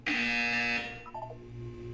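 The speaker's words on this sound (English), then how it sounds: "You will hear a buzzer." A harsh, sustained electronic buzzer sounds in the Portal 2 video game, loud and close for under a second before cutting off, leaving a low steady hum.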